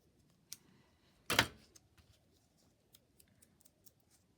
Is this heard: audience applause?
no